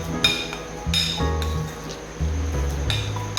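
Homemade kimchi ingredients mixed together in a bowl, with a run of bright clinks and clatters as a utensil knocks against the dish in an uneven rhythm, close and fairly loud, with no talking.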